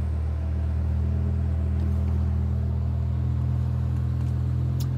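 A BMW M5 E61 wagon heard from inside the cabin while cruising on a highway, giving a steady, loud low engine drone and road rumble that holds even throughout, with no speech.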